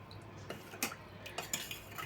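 Spoon stirring pastry cream in a pot, with faint metallic scrapes and light clinks against the pot sides spaced irregularly over a quiet background.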